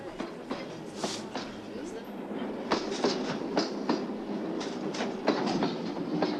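Passenger train carriages roll along rails in a 1974 Soviet film, a steady rumble broken by repeated clickety-clack wheel beats over rail joints, heard from inside the train at moderate loudness.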